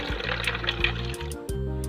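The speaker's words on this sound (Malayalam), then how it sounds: "ഇനി 1 ഗ്ലാസ് വെള്ളം കൂടെ ഇതിലേക്ക് ഒഴിക്കാം." A glass of water is poured into a mixer jar holding ginger lemon juice, sugar and ice cubes, a short soft splashing trickle heard close by and alone.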